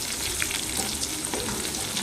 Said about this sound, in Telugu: ఇప్పుడైతే ఇవన్నీ బాగా వేగాలండి. వేగేంత వరకు ఇలా తిప్పుకుంటూ ఉంటాం మనము.